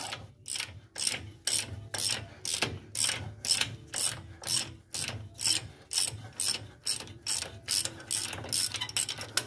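A hand ratchet clicks in rapid, evenly spaced bursts while undoing bolts during a wheel bearing removal, close and fairly loud with no talking.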